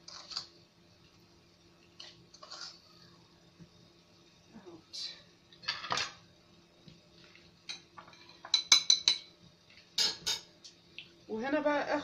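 Small metal teaspoons clink and tap against glass cups while sugar is spooned in, in scattered bursts, with a quick run of sharp rings near the end.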